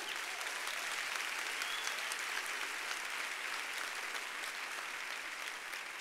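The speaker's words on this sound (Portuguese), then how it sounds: "Vamos aplaudir a Jesus." Steady applause from a large crowd at a church youth service, dense clapping that holds at an even level without a break.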